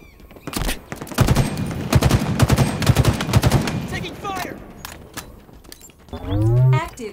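Halo Infinite multiplayer match with rapid bursts of automatic gunfire, loud and close, trailing into sparse shots before a game voice callout near the end.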